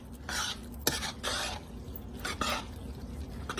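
A spoon scrapes and swishes through a thick Amish casserole mixture in a bowl, making a few close, soft bursts of stirring with light clinks in between.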